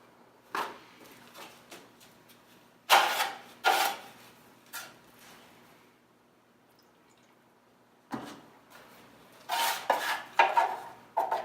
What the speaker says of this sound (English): So we have the mud mixed quite a bit finer this time, nice and smooth.